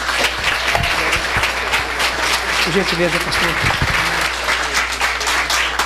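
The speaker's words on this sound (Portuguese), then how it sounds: "Os irmãos recebem o reverendo com a linda salva de palmas" A church congregation applauds to welcome a visiting reverend, a steady round of clapping filling the hall while someone speaks briefly over it.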